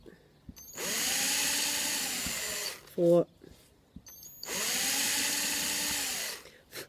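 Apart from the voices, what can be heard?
power drill drilling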